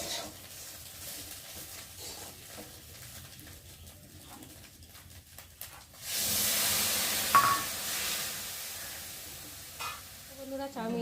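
Water poured into a hot pan of fried chow mein makes a sudden loud hiss that bursts in partway through and then settles into steady sizzling, after quieter clinking and stirring.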